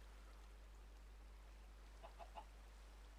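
Chickens in Minecraft give three short, quiet clucks in quick succession, faint against a steady low hum, with no other sound around them.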